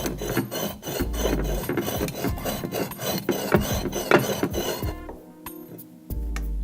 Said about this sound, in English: glaze scratching and grinding against the other part of the glaze